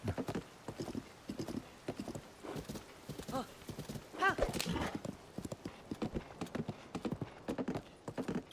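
Rhythmic hoof clip-clops of a horse in Zelda: Tears of the Kingdom moving at a steady pace, with a brief whinny midway, mixed with someone talking throughout.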